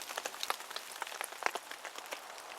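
Light rain falls outdoors on a campsite, a soft, irregular patter of scattered drops tapping nearby surfaces, faint and steady with no voices.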